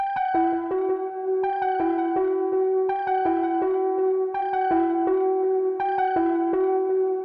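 A synth element in an FL Studio beat runs through an Echo Boy delay effect, its repeating melodic phrase trailed by clear echoing repeats in a steady looping rhythm, alone with no voices.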